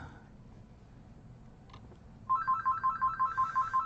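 A telephone at a guitar shop starts ringing partway through after a quiet stretch, a loud electronic ring pulsing in rapid regular bursts up close.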